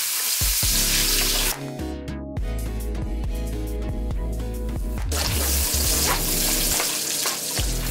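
Crab meat sizzles loudly in melted butter with rice in a pan for Chinese-style crab fried rice, steady close frying with clinks and scraping of stirring.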